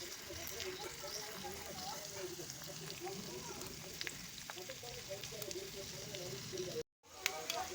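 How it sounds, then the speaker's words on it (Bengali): Mustard oil bubbles and sizzles steadily in a pan while ingredients fry for homemade flavored oil. The soft, even crackle runs throughout and drops out briefly near the end. "গাইস তেলটা ফুটছে দেখো এটা ভালো করে একদম লাল করে ভেজে নিতে হবে"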